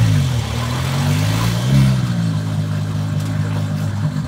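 A 2JZ-swapped Dodge Charger engine idles steadily at about 1,000 RPM, a loud, continuous low rumble with a slight rise in the middle and no talking.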